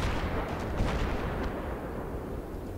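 Heavy gunfire and booming blasts in Battlefield 3, a dense continuous rumble of artillery-like shots filling the scene without pause.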